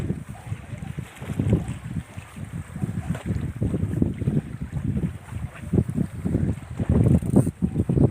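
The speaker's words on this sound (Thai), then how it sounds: "ก็ลมแรงนิดหน่อยนะครับ ลมแรงนิดหน่อย" Strong wind blowing across a sea-fishing boat, a continuous gusty roar buffeting the microphone with low rumbling surges and no talking.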